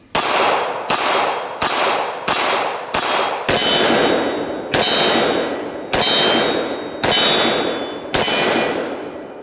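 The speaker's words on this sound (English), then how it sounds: "Oh, I hate to drop such a pretty mag on the ground, but that's what it's for." A pistol magazine from a BUL Armory SAS II SL-AIR is dropped on hard ground again and again, each drop a sharp metallic clang with a bright ringing tail. About ten drops fall in a steady rhythm, close and loud, with no talk.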